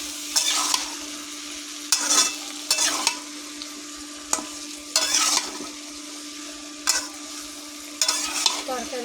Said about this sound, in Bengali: এবার আমি ভালো করে নেড়ে দেবো, নেড়ে লাল লাল করে ভেজে নেব।